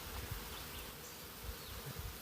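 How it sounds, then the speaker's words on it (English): Honeybees fan at the entrance of a newly installed five-frame nucleus hive, a close, continuous buzzing hum with small swells throughout. "See what those bees are doing down there? I just put that 5-frame nuke in there,"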